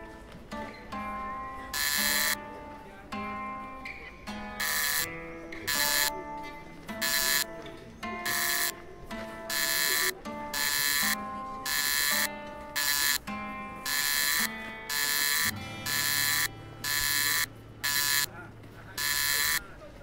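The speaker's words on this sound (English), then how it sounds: "A buzzer, I guess." A door buzzer in the video game Shardlight sounds in repeated harsh electronic bursts of uneven length, loud and close, with short gaps between them and a low tone entering partway through.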